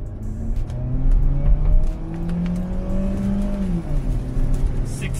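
A 1.5-liter gasoline Mitsubishi Xpander Black Edition with automatic transmission accelerates at full throttle from about 20, its engine note rising steadily with a quick gear shift partway through, heard from inside the cabin with no talking.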